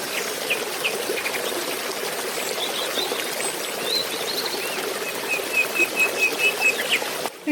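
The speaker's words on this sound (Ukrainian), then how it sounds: "Вірно, так шумить річка." Steady rushing and trickling of flowing water, a continuous gentle roar, with faint high bird calls drifting over it.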